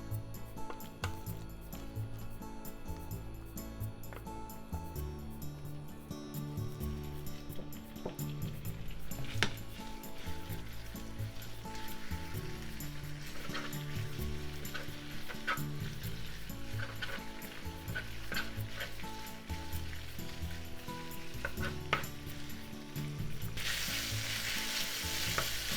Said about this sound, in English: Heat up about 2 tablespoons of vegetable oil in the frying pan over medium to medium high heat. And let's cook the pork.